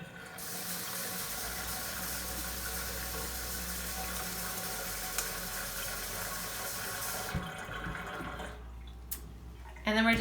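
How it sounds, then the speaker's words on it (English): Hot water poured from a tap into the center of a frozen can while making an ice lantern, a steady hiss of running water for several seconds that cuts off near the end, followed by faint clinks. "So we're going to add some hot water to the center."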